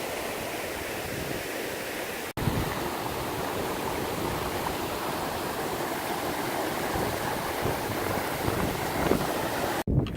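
Water runs in a mountain stream near Mt. Whitney in frozen, snowy conditions, a steady close rushing hiss overlaid with wind buffeting on the microphone and a couple of brief dropouts.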